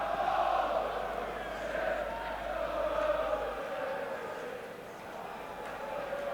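Football crowd at the 1992 playoff final between Leicester City and Blackburn Rovers, a steady roar of massed voices filling the stadium throughout, with a commentator talking over it.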